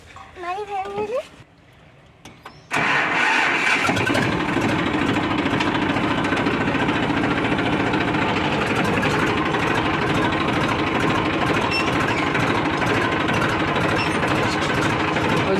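A tractor engine runs loudly and steadily with a low chugging drone, after a brief stretch of talking at the start.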